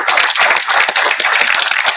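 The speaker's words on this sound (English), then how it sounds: "A round of applause for our community partners." Dense audience applause fills a hall at an awards ceremony, many hands clapping steadily and loudly throughout, with no voices over it.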